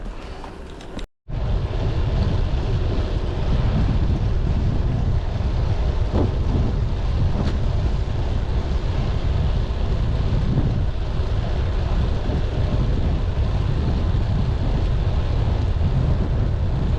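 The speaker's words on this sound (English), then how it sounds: "Bit of a headwind now." A headwind buffets the microphone on a bike ride through South Lincolnshire, a loud, steady low roar of wind that runs almost the whole time after a brief dropout near the start.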